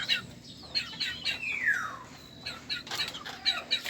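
Talisayin bantam chickens in a small backyard coop cluck and chirp repeatedly in short, close bursts, with one longer descending squawk partway through, all fairly quiet with no talking.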